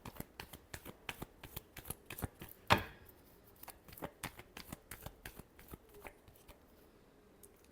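Tarot cards are shuffled by hand in a quick run of crisp riffling flicks, then one sharp snap as the deck is squared, followed by softer, slower card flicks, close and quiet with no talking.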